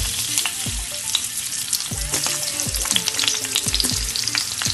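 Onions hit hot oil in a pan for binagoongang pusit, setting off a loud, dense crackling sizzle with frequent spatters and pops, close up and steady throughout, with no voices.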